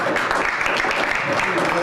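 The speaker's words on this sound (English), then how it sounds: "Give Joey a big round of applause." Comedy club audience in Muskegon, Michigan applauding a comic, a brief steady burst of crowd clapping with voices mixed in underneath.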